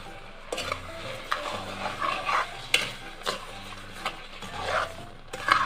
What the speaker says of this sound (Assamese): চেনিখিনি ঢালি দিছোঁ